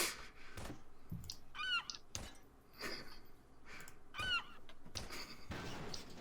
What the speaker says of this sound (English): I found my favorite taunt. Seagulls.